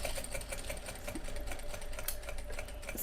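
A sewing machine runs steadily through a straight stitch at half an inch in a silk sewing lesson, a continuous close whirring hum with no talk.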